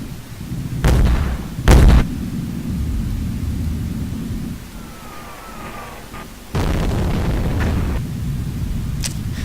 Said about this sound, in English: Watch our boys start the firing barrage, the artillery barrage.